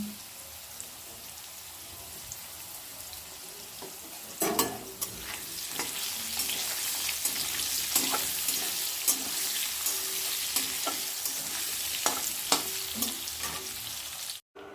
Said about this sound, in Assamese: মই অকণমান নিমখ আৰু হালধি দি আলুকেইডোখৰ ফ্ৰাই কৰি ল'ম